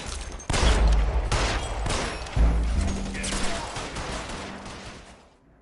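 Gunfire in the L.A. Noire video game: several loud, booming shots crack close by in a quick burst, followed by a long echoing tail that slowly fades out.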